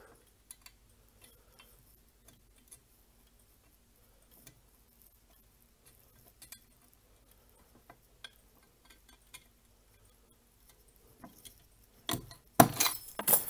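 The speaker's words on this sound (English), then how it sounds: "And there go my keys." Keys jangle and clatter as they drop, a close, sudden burst near the end after a long stretch of faint, scattered ticks and taps.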